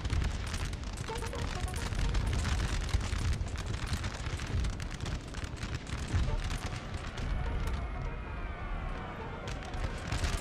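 Massed musket skirmish fire in a Napoleon Total War battle, heard as a dense, continuous crackle of volleys with occasional heavier booms, while a voice talks faintly beneath the din.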